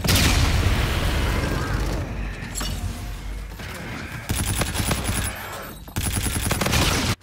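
Gunfire and explosive booms in the first-person shooter Call of Duty: Infinite Warfare, loud and continuous bursts of shots with sharp cracks and heavy thuds, a dense chaotic barrage that briefly eases midway before intensifying again.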